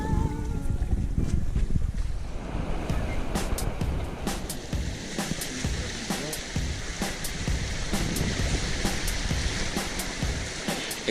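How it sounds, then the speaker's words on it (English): Mini 832 racing sailboat running downwind under a big spinnaker toward Deauville, with a steady loud rush of wind and water against the hull, broken by frequent spray and splash hits. "A great finish sailing downwind using finally our big spinnaker."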